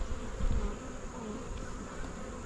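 Honeybees hum around an open hive in a faint, steady, continuous drone, nearby with no speech.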